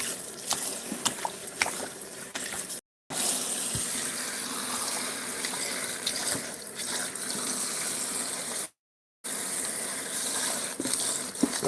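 Cold water runs steadily from a tap into a sink, a close continuous splashing stream broken by two short gaps, with no talking.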